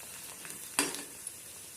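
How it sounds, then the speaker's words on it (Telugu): Corn flakes dropped into hot oil set off a bubbling sizzle, with one sharp burst of frying and a few softer crackles following, close and alone. "చూడండి, బాగా వేడెక్కిపోయింది నూనె. మొక్కజొన్న చిప్స్ వేస్తున్నాను."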